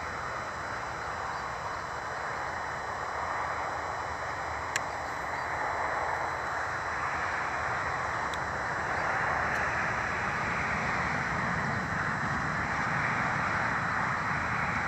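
A camera drone flies over the Eden Valley Railway near Appleby, giving off a steady, even buzzing whir that holds for the whole stretch with no voices.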